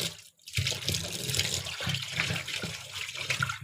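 Cabbage sloshing and splashing in a bowl of water, a steady watery swirl with gentle trickles that runs almost continuously after a brief pause near the start.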